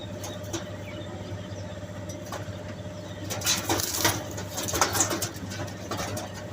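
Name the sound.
Giribaj pigeons cooing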